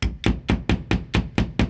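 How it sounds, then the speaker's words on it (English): A hammer drives wall anchors into drilled holes to mount wire shelving, landing eight sharp, evenly spaced blows in quick succession, close and loud with no talking. "Drill our holes and pound it in."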